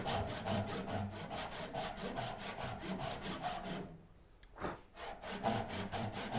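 A hand saw rasps back and forth through wood in quick, regular strokes, close by, pausing briefly partway through before resuming at the same pace.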